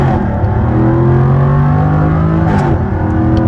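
A 2023 Jaguar F-Type P450 AWD pulls hard in first gear onto a multi-lane highway, the loud engine note rising steadily and close for a few seconds before easing near the end.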